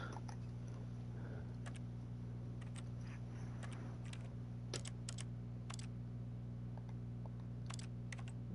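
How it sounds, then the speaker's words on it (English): Computer keys tapped in scattered quick clicks and short clusters, faint and near, over a constant low hum. "My keyboard works, but not my mouse."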